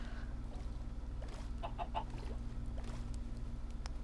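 Chickens clucking in the game Minecraft, heard as a few faint, short clucks over a quiet, low ambient hum, with no voices.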